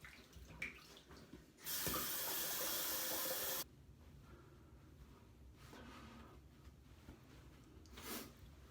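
Water running from a tap while rinsing off after a shave, a loud steady gush lasting about two seconds, followed by quieter splashes and dripping close by.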